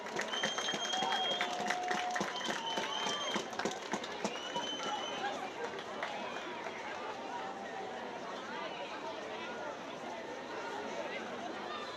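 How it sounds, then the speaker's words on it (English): A crowd claps for student athletes receiving varsity letterman's jackets at a high school football event, a sustained burst of applause that slowly thins, mixed with chatter and scattered shouts from people nearby. "A round of applause, please."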